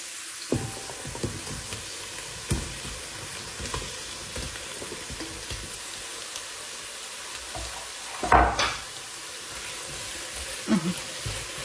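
Chorizo and onions fry in a pan for a Spanish-style lentil soup, giving a steady, close sizzle with a few scraping stirs and a louder clatter near the end.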